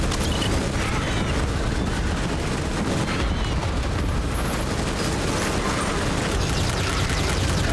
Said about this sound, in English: Two machine gunners at the front line.